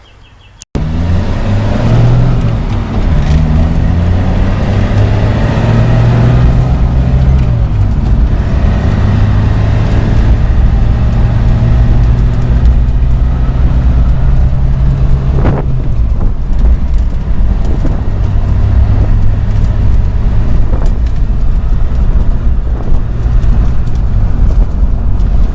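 A Suzuki Samurai (Jimny 1300) engine fitted with a Toyota carburetor runs steadily after sitting for 13 years, a close continuous rumble with some wind buffeting on the microphone and a faint rise in revs partway through.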